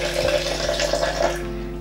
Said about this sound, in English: I'm going to pour in a jug of water inside the blender.